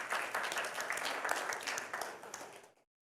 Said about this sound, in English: So you all, I want to applaud you.